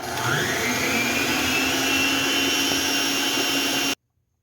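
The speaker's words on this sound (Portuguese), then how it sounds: "Você vai ligar a sua batedeira no volume máximo aí que ela tem." An electric stand mixer beats eggs for sponge cake at its top speed, a loud, steady close whine with a rising motor pitch at the start that stops abruptly near the end.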